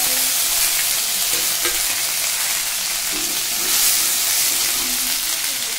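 Mustard seeds, cumin and a dried red chili sizzle in hot oil in a kadai, a loud, steady, close-up crackling hiss that carries on unbroken with no voices.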